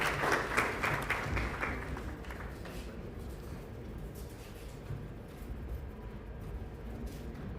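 An audience bursts into a round of applause welcoming a contestant at a presidential pitch competition grand finale, loud clapping at first that gradually thins and fades into softer room noise.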